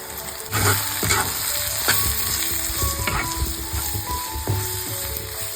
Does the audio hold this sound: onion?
yes